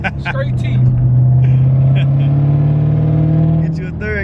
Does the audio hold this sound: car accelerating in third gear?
yes